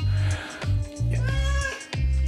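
A house cat meows repeatedly up close, several drawn-out, whiny calls in a row with short gaps between them.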